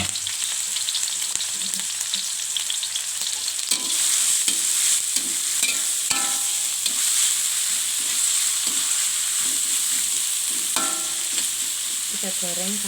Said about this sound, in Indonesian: kita goreng sampai kuning kecoklatan.